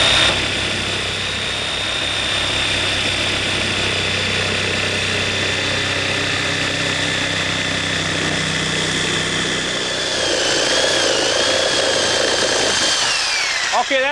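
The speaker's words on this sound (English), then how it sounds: "And to do that, we'll use a reciprocating saw." A reciprocating saw cuts out wall sheathing around a rough opening while a basement is being finished. It gives a continuous, loud buzzing drone for the whole stretch, with a pitch change near the end and some faint talk beneath it.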